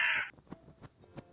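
A crow caws at close range in a short, sharp burst, then falls silent, leaving only faint low room noise; it serves as an inserted effect within a spoken story reading.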